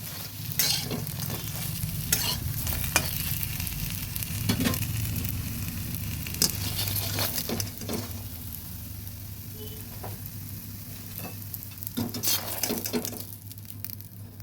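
Banana flower pakoras frying in hot oil give a steady, close sizzle with crackling pops and occasional stirring scrapes throughout, with no talking.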